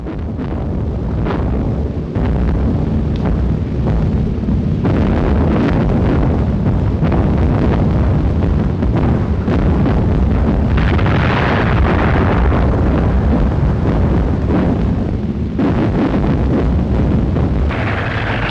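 Heavy weapons pounding enemy positions during the 1943 Battle of Orel, a dense, continuous roar of loud booms and bursts with wind-like rumble throughout, no quiet gaps.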